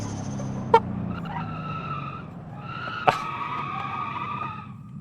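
Racing-game car engine at full throttle on the Jungle Rock hillclimb, a steady droning roar with two sharp tyre-skid squeals, loud and continuous with no talk.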